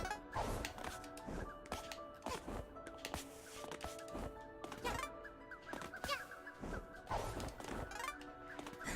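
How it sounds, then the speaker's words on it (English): Birds in A Hat in Time squawk and gobble while chasing a player, with sharp, rapid clucking calls and thwacking hits in a quick, busy rhythm over game music, fairly faint overall. "you have these birds that run after you at lightning fast speeds"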